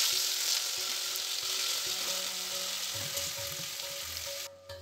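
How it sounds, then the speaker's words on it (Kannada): Bottle gourd and chana dal frying in oil for a gourd kootu, a steady close sizzle with a few soft stirring scrapes, running alone with no voices until it thins out at the very end. "ಒಂದು ಅಥವಾ 2 ನಿಮಿಷ ಈ ಎಣ್ಣೆಲಿ ಸ್ವಲ್ಪ ಹೊತ್ತು ಫ್ರೈ ಮಾಡ್ಕೊಳ್ಳಿ."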